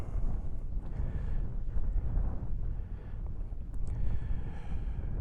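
Strong wind buffets the microphone on open Dartmoor moorland near the tors, a continuous loud roar and rumble with gusting surges throughout and no voices.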